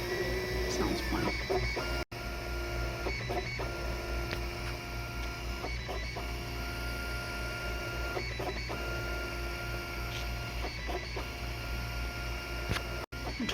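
A 3D printer runs nearby, its motors giving a steady, busy mechanical whir with repeated buzzing strokes and brief ticks, broken by a couple of short pauses, with no voices over it.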